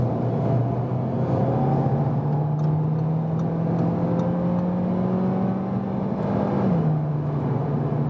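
An Audi A3 Sportback 1.5 TFSI mild-hybrid accelerates on a motorway from 60 to 120 km/h, its steady engine drone rising gradually in pitch through a long gear, then dropping at a shift, over constant road and wind roar.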